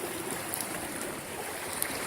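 A small creek flows along a hiking trail, making a steady close wash of running water with faint high chirps over it and no talking.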